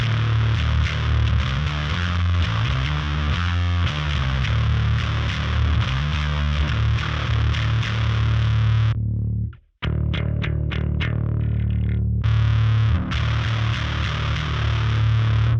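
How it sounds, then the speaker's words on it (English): Heavily distorted bass guitar through an Electro-Harmonix Hell Melter high-gain distortion pedal, playing loud sustained riffs, with a brief cut to silence midway before choppy notes and the full sound return. "it's a very high gain distortion"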